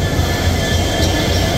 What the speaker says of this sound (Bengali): এই যে এখান থেকে ইঞ্জিন মানে লোকো স্টার্ট করে